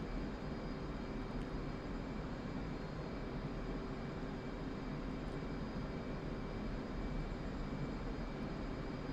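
Steady, continuous roar of an F/A-18C Hornet jet engine in the DCS flight simulator, droning evenly at moderate level with no voices over it.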